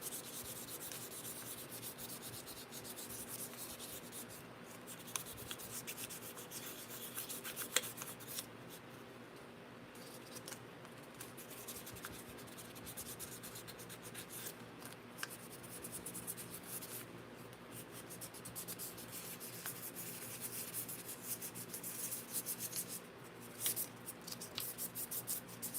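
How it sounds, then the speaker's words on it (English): Hand sanding of scratches on a Hot Bodies RS4 RC car body, a faint, continuous scratchy rubbing with quick irregular strokes over a low hum, close but quiet, lasting about 25 seconds with no talk. "Trying to take out the scratches by adding more."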